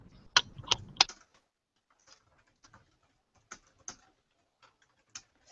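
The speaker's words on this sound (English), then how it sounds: "So I'm just typing" Typing on a computer keyboard, nearby: three firm key clacks open, then a sparse, irregular patter of lighter keystrokes follows with quiet gaps between them.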